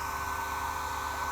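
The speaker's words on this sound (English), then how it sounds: "grab a hairdryer, then heat up the top of the arm" A hairdryer blows steadily at close range, heating the top of a doll's arm, with a constant whirring hum and airy rush throughout and no pauses.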